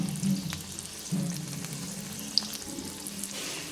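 Okra pieces deep-frying in hot oil make a soft, steady sizzle with a couple of brief stirring or dropping bursts near the start, and nobody speaks.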